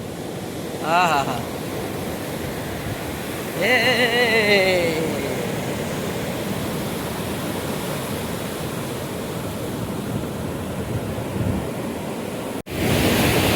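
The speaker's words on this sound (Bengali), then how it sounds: "সমুদ্রের গর্জন শুনছেন বন্ধুরা?" Sea waves roar on Calangute beach in Goa, a loud, continuous wash of surf close by, with a man's brief exclamations and some wind buffeting over it.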